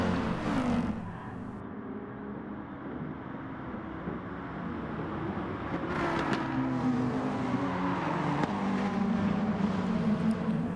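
Racing cars in a video game, an orange Nissan GTR and a Hyundai in KFC livery among them, give a continuous engine drone with revving pitch shifts and a louder surge near the end, with no voices.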